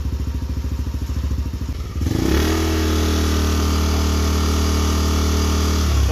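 A Yamaha Nmax scooter fitted with a JVT Pipe ver. 3 exhaust on its lowest setting idles with a rapid putter, then revs up at about two seconds into a loud, steady, close engine drone, with no talking.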